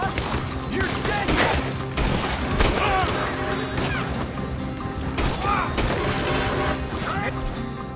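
Heavy gunfight in Red Dead Redemption 2, with overlapping shots and crashes from a sustained fusillade in dense, steady bursts, and voices shouting in between.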